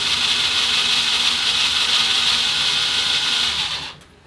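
A power tool trims, chamfers and deburrs a brass cartridge case with a loud, steady high whir that runs for several seconds and then stops abruptly near the end.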